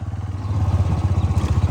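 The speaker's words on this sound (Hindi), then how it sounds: "आज हुज़ैफा का ट्रैक्टर भी टिब्बी पे आया हुआ है" A tractor engine runs nearby in a village field setting, giving a loud, steady low chugging with a fast regular pulse throughout, with no voices.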